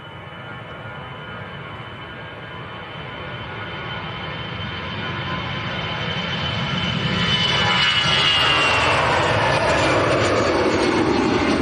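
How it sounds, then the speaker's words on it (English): An Aer Lingus Airbus A320 on its takeoff roll at Manchester Airport. The jet roar starts as a broad rumble and swells steadily louder and brighter as the engines spool up and the aircraft draws nearer. "next departure on the roll, Aer Lingus to Dublin and A320"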